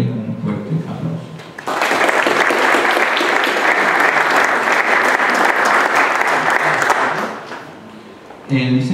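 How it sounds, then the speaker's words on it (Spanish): Audience at the installation ceremony of a public security advisory committee breaks into loud, steady applause that swells suddenly and holds for several seconds before fading, with a voice briefly audible at the start and end. "Démosle un fuerte aplauso."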